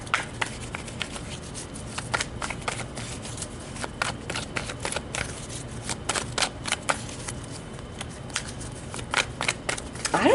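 Tarot cards being shuffled by hand in a quiet room, a run of soft papery riffles and flicks in irregular bursts, close and fairly faint, with no voices.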